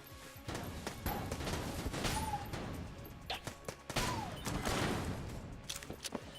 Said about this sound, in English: Banana gun takes a little bit too long to shoot